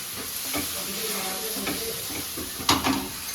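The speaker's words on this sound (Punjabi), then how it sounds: "ਇਹਨੂੰ ਆਪਾਂ ਮਸਾਲੇ ਨੂੰ ਨਾਰਮਲ ਜਿੱਦਾਂ ਭੁੰਨਦੇ ਆ ਨਾ ਇਦਾਂ ਭੁੰਨਾਂਗੇ" Masala roasting in a pan gives a steady frying sizzle with brief stirring scrapes, ending in a sharper clatter near the close; close and moderately loud, with no speech.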